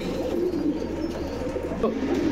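Close, soft cooing from old-line pigeons kept for sale in Bangalore, a low throaty coo rising over steady background noise.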